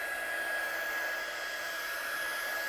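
A hair dryer blows over a stamped metallic ink background, a steady close whooshing hiss with a constant whine, alone and unbroken.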